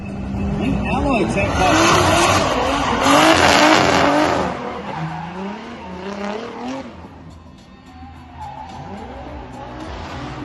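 A turbocharged Holden Commodore drift car slides past a tyre wall in D1WA competition, with a loud engine wail, squealing tyres and skidding that fade off as it moves away. An announcer talks over much of it.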